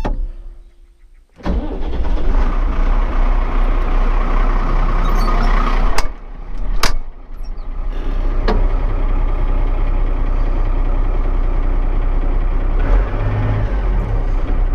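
A GA 140 14-tonne truck's diesel engine cranks and catches after a quiet moment, then settles into a steady, loud, close idle with a couple of sharp knocks along the way.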